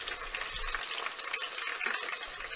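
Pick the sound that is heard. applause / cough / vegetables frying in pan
vegetables frying in pan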